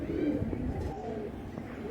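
Tournament pigeons of Andhra and Madrasi breeds coo nearby in a short, low, throaty burst, heard alone without talk.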